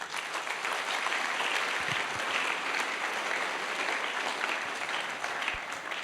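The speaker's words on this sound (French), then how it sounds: "Acclamez le Seigneur." A church congregation breaks into sustained, dense applause for the Lord, a steady wash of clapping from many hands that holds at even loudness from start to finish.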